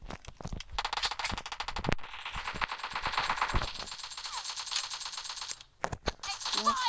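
Rapid automatic gunfire from a shooter video game, with dense bursts of close, loud shots, brief pauses and single clicks, filling nearly the whole clip with no talking over it.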